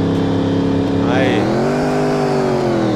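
Engine of a car in a Brazilian-style Android driving game revs loudly, with a brief high screech of tires skidding in the middle before the engine pitch settles back into a steady drone.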